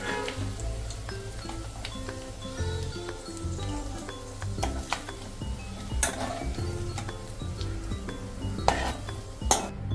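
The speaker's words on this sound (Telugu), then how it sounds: "సో ఈ విధంగా వేయించుకున్నాక మనము వీటిని ఒక బౌల్లోకి తీసుకుందాం." Fried dry fish being moved from a pan into a bowl for a dry fish curry, with steady clinks and scrapes of utensils against cookware over a continuous low kitchen hum, no one talking.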